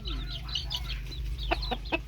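A hen and rooster kept as backyard poultry give a few short clucks and calls, with a louder cluster of three near the end, over a steady low hum.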